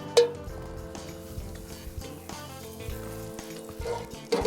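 Butter sizzling and frying in a pan on a Pit Boss grill, ahead of cooking mussels Dutch-style, with a steady close crackle, a few clinks and small knocks, and no talking.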